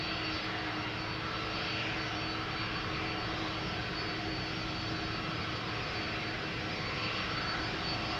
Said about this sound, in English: This is the hallmark of a Delta that is taxiing to the first exit